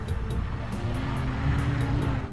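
A jeep drives past on a road, a steady close engine rumble with faint rhythmic ticking over it, lasting a couple of seconds with no talk.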